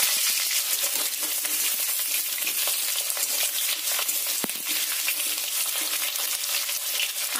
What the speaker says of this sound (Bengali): তেলটা আমার গরম হয়ে গেছে, এবার কেটে রাখা আলুগুলো এতে দিয়ে দেবো ভাজার জন্য